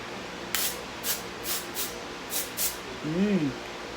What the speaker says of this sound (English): it is just a spray bottle